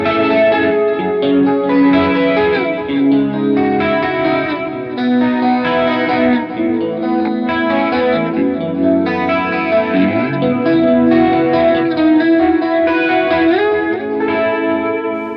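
Electric guitar played through a Bias FX 2 patch in a clean tone with delay and chorus shimmer, melodic picked notes and chords flowing continuously and fairly loud, with no voice.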